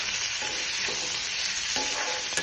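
Boiled potatoes stirred with garlic paste in hot oil, a steady loud sizzle filling the pan with a few scraping strokes of the spoon, close and continuous with no voices.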